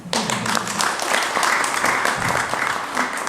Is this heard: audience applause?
yes